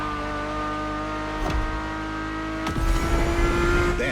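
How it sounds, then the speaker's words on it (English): Ferrari F50's naturally aspirated V12 in The Crew Motorfest holds a steady high-pitched drone, broken by two sharp shift-like transients, then rises into a louder, rougher roar at the end; no voices. "The F50's core is a normally aspirated V12 that came straight from a Formula One."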